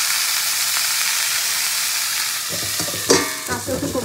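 Vegetables fry and sizzle steadily in a pan on a gas stove, then a utensil stirs them with a burst of scraping and clatter near the end.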